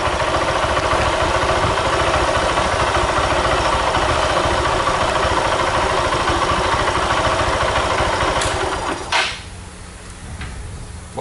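A Honda Titan 150 fuel-injected motorcycle with a weak headlight idles steadily and close by, a continuous engine drone that dips near the end with a couple of brief clicks.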